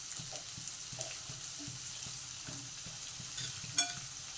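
Green chillies frying in a pan for tomato chutney, a faint low sizzle with soft repeated stirring taps and one sharper clink near the end.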